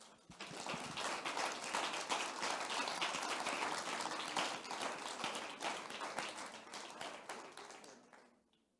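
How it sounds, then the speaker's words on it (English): Conference audience giving a round of applause to a panel, dense sustained clapping from many hands that runs steadily for several seconds before tapering off at the end. "So a round of a big applause,"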